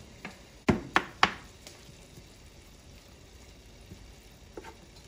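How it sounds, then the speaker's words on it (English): Three sharp knife strikes on a cutting board, close and clear, as meat is chopped finely for a deep-dish ricotta lasagna, with a few softer taps trailing off in a quiet kitchen. "So go ahead and chop up your meat finely as possible."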